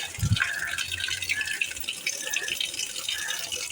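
Tap water runs steadily over half-boiled vermicelli in a strainer, a soft continuous splash with a brief clatter near the start.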